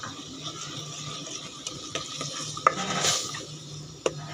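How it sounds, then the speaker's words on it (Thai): Curry paste being stir-fried with coconut milk in a pan for a pork curry, heard as soft continuous scraping and stirring with a low sizzle and a couple of sharp utensil clinks against the pan. "ผัดพริกแกง ผัดไปเรื่อยๆ"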